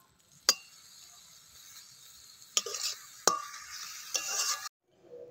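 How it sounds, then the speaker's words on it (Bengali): A spoon scrapes and clinks against a pan as pitha filling with garam masala and chopped coriander is stirred, sharp strikes mixed with soft sizzling scraping, close by, with no voices. "এবার ভালো করে নেড়েচেড়ে নামিয়ে নিলেই কিন্তু রেডি"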